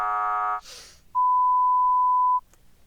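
A loud electronic beep from a game box holds one steady tone for over a second, after a brief buzzy tone and a short noisy burst, then cuts off sharply into quiet.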